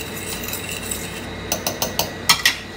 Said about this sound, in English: I'm just getting this drippings off the bottom of the pan